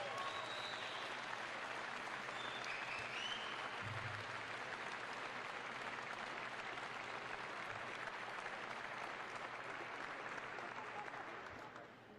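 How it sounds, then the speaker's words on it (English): Sustained applause from a crowd honouring aircraft maintenance team members at a military ceremony, dense and even for the whole stretch before tapering off at the end. "Let's give them a big round of applause."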